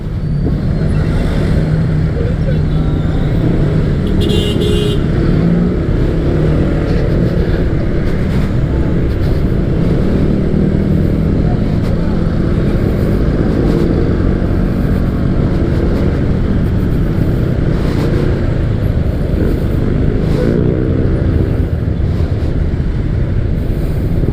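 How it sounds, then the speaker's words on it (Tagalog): Congested road traffic of cars and motorcycles on a Luzon road makes a loud, continuous engine rumble and drone close by, with wind buffeting the microphone and occasional higher engine whines. "Congested na dito, traffic na."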